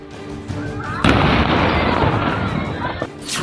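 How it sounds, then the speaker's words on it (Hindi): A sudden loud blast at an illegal firecracker factory in Lucknow erupts and rolls into a sustained roar of debris and rumble, with faint voices before and after. "लखनऊ में बारूद, जोरदार धमाका"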